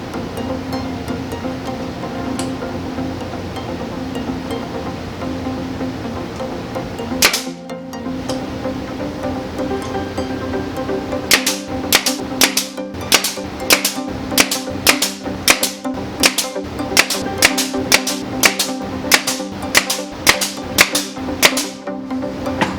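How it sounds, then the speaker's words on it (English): Brad nailer driving brads into the frame of a DIY mirror barn door, one sharp shot followed after a pause by a fast string of about twenty loud, close pops in an uneven rhythm over a hum. "Popping a brad on the outside corner"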